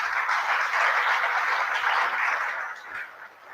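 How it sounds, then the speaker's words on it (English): An audience claps together at a lecture event, a dense, steady burst of applause that fades slightly near the end. "Please join your hands together and applause for her."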